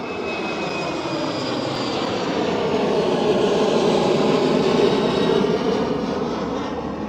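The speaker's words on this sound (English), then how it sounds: "Embraer E190." A KLM Cityhopper Embraer E190 jet at Schiphol Airport in Amsterdam: a loud, sustained jet engine roar with a broad rushing texture, holding steady and swelling slightly as the aircraft passes close by.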